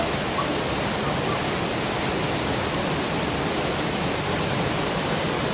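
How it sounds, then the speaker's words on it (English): Steady, dense rushing roar of the 100-foot waterfall at Nambe Falls, a constant broadband wash of falling water that stays loud and unbroken throughout. "Up above here, there's a 100-foot waterfall."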